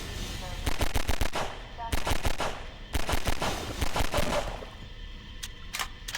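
Rapid bursts of automatic gunfire in the video game Half-Life 2, several clustered volleys of sharp shots with brief gaps, then a couple of isolated shots at the end, loud and close.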